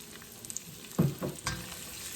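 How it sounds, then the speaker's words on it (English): Whole onion dropped into a hot pan with bacon, giving a steady sizzle and frying crackle with a few louder bursts of stirring near the middle, moderately close with no talking. "Now we're going to drop the whole onion."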